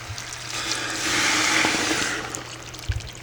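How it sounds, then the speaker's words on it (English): Water pouring steadily into a cooking pot while making yam porridge (asaro), a continuous close rushing splash that swells in the middle and eases off, with a small clunk near the end. "Now what I'm going to do, I'm going to add my water"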